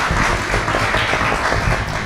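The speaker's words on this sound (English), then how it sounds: "please join me with a round of applause to really appreciate the panelists" An audience applauds the panelists at a live Ebola preparedness session, a dense, steady wash of many hands clapping that holds evenly from start to finish.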